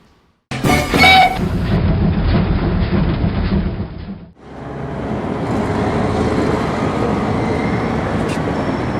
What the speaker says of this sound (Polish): Jesteśmy na dworcu głównym w Poznaniu